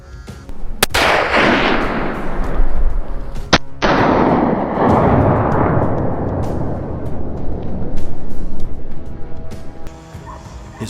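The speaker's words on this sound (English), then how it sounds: "His rifle was ready, and he precisely tracked the wild boar's movement. With a single shot, the beast collapsed on the spot." A rifle fired at a wild boar during a hunt outdoors, with two sharp loud shots echoing through the surroundings while dogs bark and yip excitedly throughout.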